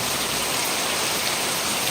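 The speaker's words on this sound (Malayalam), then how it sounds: "നല്ല അടിപൊളി മഴ ഇന്ന് രാവിലെ ഇതേപോലൊരു മഴ പെയ്തിട്ടുണ്ട്" Heavy rain pouring down in a dense, unbroken hiss, loud and close, with the patter of drops drumming on surfaces.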